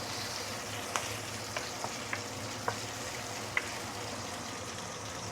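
Marinated meat fries in a pan for KL Hokkien mee, a quiet steady sizzle broken by a handful of faint clinks or stirring ticks.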